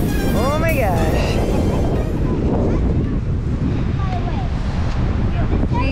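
Strong wind roars outdoors, a constant loud rush buffeting the microphone throughout while people talk over it.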